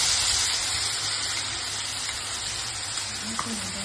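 Red chili powder and turmeric sizzling steadily in hot oil for a Khandeshi black-masala chival bhaji, a dense, even frying hiss throughout with a faint clink near the end.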